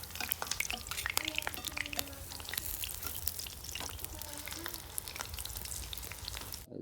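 Coriander leaf chops fry in oil with a continuous soft sizzle and frequent small crackles and pops, fairly quiet and close, with no talk.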